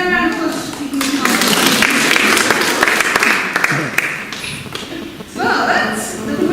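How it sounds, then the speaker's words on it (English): An audience at a murder mystery performance by an amateur theatre group gives a sustained round of applause, dense clapping lasting several seconds and thinning briefly before picking up again. "we'll give them a round of applause"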